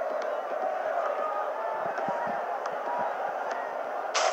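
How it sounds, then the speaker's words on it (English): Crowd cheering in the Dream League Soccer 2019 mobile football game after a goal, a steady mid-level roar of stadium noise running throughout with faint speech mixed in. "And the crowd are well behind their team now."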